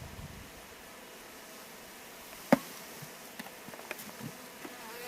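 Honeybees from a package hum steadily as they are shaken into a hive during installation, a soft continuous buzz with one sharp knock partway through and a few faint clicks after.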